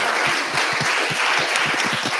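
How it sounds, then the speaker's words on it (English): Warm round of applause from an audience at an evening talk on couples relationships, steady dense clapping filling the whole stretch at close, even loudness with no voices over it. "I would like you to give a warm round of applause"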